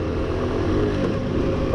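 A Honda Super Cub NBC110 motorcycle engine drones steadily at close range through a gear change, a constant low motor hum with a slight rise near the end.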